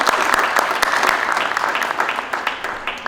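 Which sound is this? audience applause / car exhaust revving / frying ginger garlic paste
audience applause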